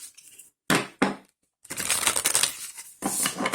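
Slightly oversized mediumship training cards are shuffled by hand in close, crisp bursts of riffling and flicking, several separate shuffles broken by brief pauses.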